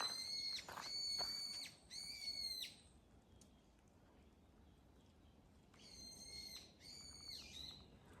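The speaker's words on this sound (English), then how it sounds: "I think the bird said it perfectly." Two bursts of harmonic whistled bird calls ring out, a pair of quick calls early on and another pair near the end, with a soft outdoor hush in the quiet stretch between.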